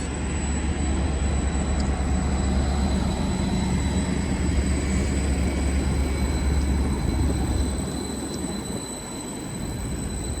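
A loud, close Class 755 passenger train arriving at a mainline station rolls in with a heavy rumble and a thin high squeal from the wheels, easing off near the end.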